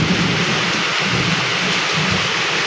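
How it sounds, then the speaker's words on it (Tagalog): Heavy tropical downpour with thunder: a loud, dense, unbroken roar of rain with low rumbling thunder underneath, continuous from start to finish with no voices. "Grabe yung ulan."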